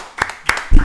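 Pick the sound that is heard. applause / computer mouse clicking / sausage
applause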